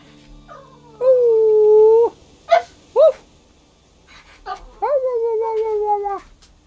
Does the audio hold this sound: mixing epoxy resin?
no